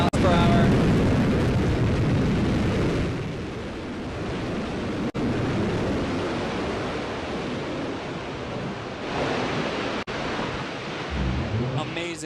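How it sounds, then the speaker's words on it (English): A New Shepard rocket booster's engine roars during landing as a broad, loud rumbling hiss that eases off and swells again, with brief dropouts and a fading tail. "Another picture-perfect landing for New Shepard rocket booster."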